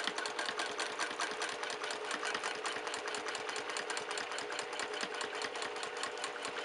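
Sewing machine running steadily while stitching a quilt guided by a clamshell quilting ruler, a continuous fast mechanical needle rhythm at close range with no talking.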